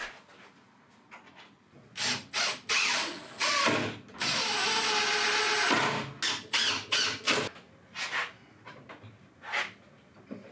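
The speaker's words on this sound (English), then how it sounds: "It helps to put your bits in the drill properly though." A power drill runs in repeated short bursts with one longer sustained spin in the middle, trigger pulses starting and stopping close by, the workshop otherwise quiet and no one talking.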